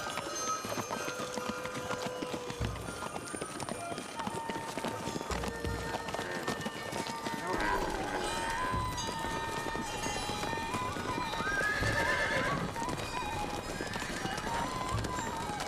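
Horses of a caravan passing through a sandy desert area alongside camels, heard as steady clip-clop hoofbeats with occasional whinnies under a dense music and effects bed, moderately close throughout.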